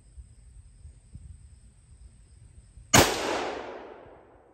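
A single sharp, loud rifle shot from a Finnish M39 Mosin-Nagant cracks out of near silence and trails off in a long, fading echo.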